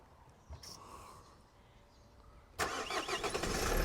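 A 2010 Renault Laguna with a battery drained by a parasitic draw sits overnight, then clicks, cranks briefly and catches, settling into a steady close idle.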